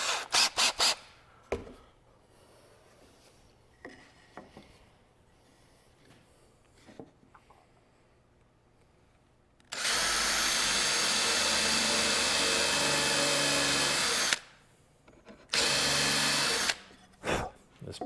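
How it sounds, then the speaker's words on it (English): A power drill countersinks holes in soft poplar for rocking horse stretchers, with faint handling clicks first, then a loud sustained whir of about five seconds, a pause, and a shorter second burst up close. "I'm gonna countersink some holes again, and then we can get this put together"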